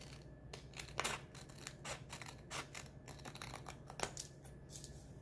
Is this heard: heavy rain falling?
no